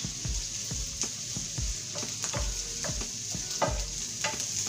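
Baby squash frying in a pan alongside peppers and mushrooms, a constant bright sizzle close up with a rhythmic series of soft thumps and scrapes from stirring.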